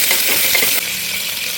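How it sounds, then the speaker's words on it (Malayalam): Tomato goes into a hot pan of tempered mustard seeds, curry leaves and shallots, raising a loud, close, continuous sizzle that eases slightly halfway through, with no one talking. "ഇനി തക്കാളി ഇട്ട് കൊടുക്കാം."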